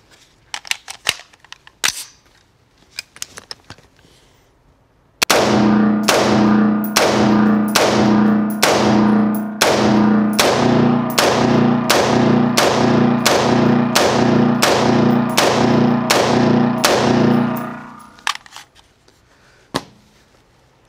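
A retro Bushmaster rifle fired at an outdoor range, a rapid string of around twenty loud, sharp shots with ringing echoes, following a few scattered clicks and handling noises.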